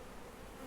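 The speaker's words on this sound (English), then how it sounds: "Got a nice young bee just there." A newly hatched, still-downy honey bee and the surrounding colony hum steadily during a hive inspection for disease, a continuous, close insect buzz holding at an even level without talk.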